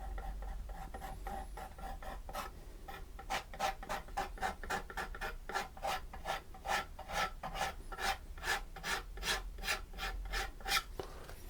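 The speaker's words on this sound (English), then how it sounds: "Just scrape a little bit of paint off here and there like that" A rhythmic rasping scrape of a tool dragged repeatedly across acrylic paint on canvas, a steady series of close, even strokes that quicken and grow more regular after the first few seconds.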